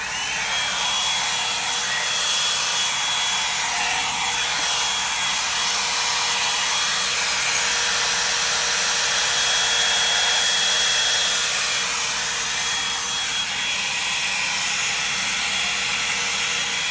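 Revlon Salon One-Step hair dryer and volumizer blowing steadily at close range, a loud continuous airy roar and hiss that holds unbroken from start to end with no talking.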